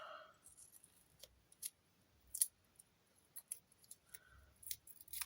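Scissors snipping paper for a witch-themed collage, a handful of short, crisp, close cuts spaced irregularly in a quiet room, with no talking.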